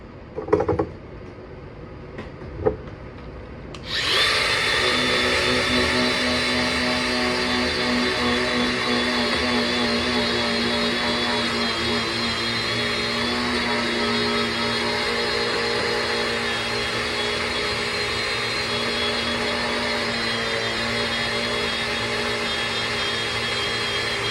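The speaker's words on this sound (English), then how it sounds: "Then you're going to come back over with the surface conditioner pad." Surface conditioner pad on a power tool spinning up against stainless steel weld edges in a commercial kitchen build: a few light taps, then a loud steady whirring grind that runs unbroken to the end.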